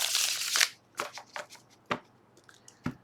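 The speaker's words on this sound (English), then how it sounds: "Now let's shuffle our tarot, just a single shuffle" A tarot deck given a single shuffle at close range, opening with a brief riffling burst followed by several sharp, separate taps and snaps of cards settling into place.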